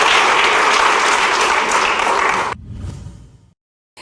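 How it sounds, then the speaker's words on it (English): A talk show studio audience bursts into loud, dense clapping that holds steady for a few seconds, then cuts off sharply, leaving a brief fading murmur before silence. "Clap if you agree that it's more shocking to find a 28-year-old man who's a virgin."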